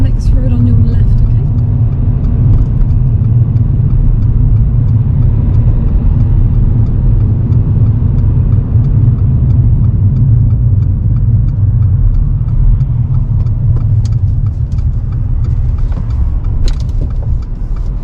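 A car driving on a road during a driving test, heard from inside as a steady, loud, low engine and road rumble that continues throughout, with a few faint ticks and clicks.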